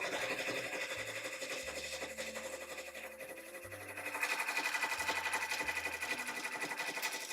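A machine embroidery unit stitching small doll clothes, a steady fast mechanical whir and needle chatter that runs throughout, with shifts in pitch as the stitching changes, close and continuous.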